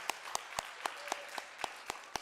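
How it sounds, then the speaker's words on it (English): An audience at a panel discussion during a Northeast India heritage festival claps in a steady, evenly spaced rhythm, the claps faint and distant over a quiet room hum. "Let's give a big round of applause for all these wonderful panelists."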